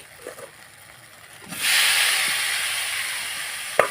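Boiled cabbage and potato drop into hot spiced oil and burst into a loud, steady sizzle after a short quiet stretch, holding strong to the end with a brief clink near the close.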